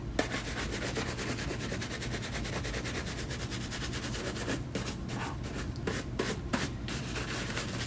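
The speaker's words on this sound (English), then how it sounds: "Alright, so I'm just gonna brush these" Leather shoes, Gucci slippers and Thursday boots, brushed briskly during restoration, giving a steady run of rapid scratchy strokes close up with no talking, the rhythm turning slightly choppier toward the end.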